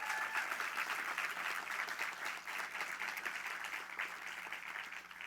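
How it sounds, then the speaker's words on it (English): Conference audience applause fills the room, a dense, continuous clapping that stays loud and even, fading slightly toward the end. "Please give them a round of applause."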